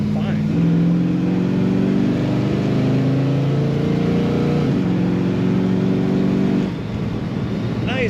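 A 1955 Chevrolet two-door sedan engine revs up and holds a rising, throaty drone, close and loud, then eases back toward idle near the end.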